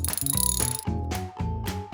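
A torque wrench ratchets in quick clicking bursts while tightening a tensioner pulley during a timing belt job on a Citroën C3 1.4 HDI, close and crisp, with brief pauses between strokes and no voices.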